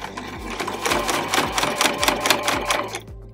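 A sewing machine stitches around a tiny dollhouse mini quilt, its needle thumping in a fast, even rhythm of about three beats per second, close and loud, stopping just before the end.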